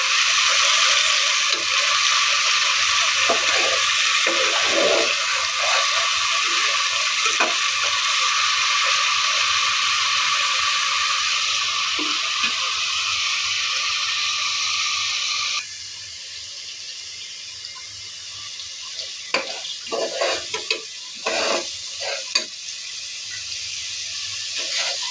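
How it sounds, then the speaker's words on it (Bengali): Onion, ginger and garlic paste stir-fried in a pan for biryani, a steady loud sizzle and hiss that drops suddenly partway, then quieter sizzling with scraping and clinks of a spoon. "মশলাটাকে ভালোভাবে কষিয়ে নেব"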